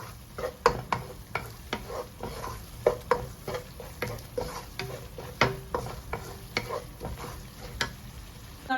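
Chillies fry in hot oil for a dry mango pickle, a soft continuous sizzle broken by frequent sharp scrapes and taps of a spatula stirring the pan at an irregular rhythm.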